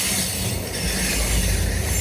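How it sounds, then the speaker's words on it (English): A track inspection train rolls past on a siding in Kelly, Kentucky, a loud, close, continuous rumble of wheels on rail with a steady metallic hiss. "This train checks the alignment of the tracks and the gauge"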